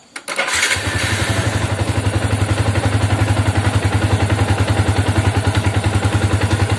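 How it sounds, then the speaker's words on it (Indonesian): A Yamaha Vixion motorcycle engine starts via a jumped starter switch, cranking briefly then catching into a steady, close, loud rhythmic idle that runs on without any talk. "Oke, motor hidup ya."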